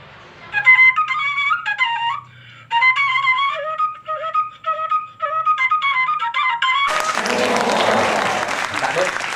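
Batak bamboo flute, a seruling, plays a clear melodic run of breathy whistled notes up close for several seconds, then stops as a burst of applause takes over.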